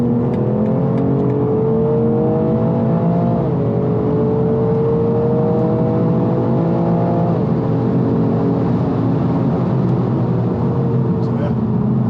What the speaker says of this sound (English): we're joining the motorway now, and I'll show you the sounds of this car.